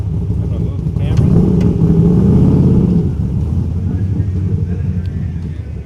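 A 1997 Chevrolet Camaro Z-28 SLP with an LT1 V8 idles up close, its deep, steady rumble swelling for a couple of seconds as if briefly revved, then settling back to a lower idle while a person talks over it.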